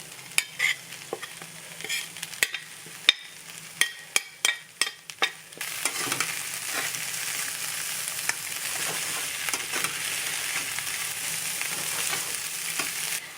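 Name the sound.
beef chorizo and potatoes frying in a pan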